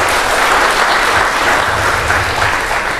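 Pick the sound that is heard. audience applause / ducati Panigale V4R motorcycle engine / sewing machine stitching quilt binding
audience applause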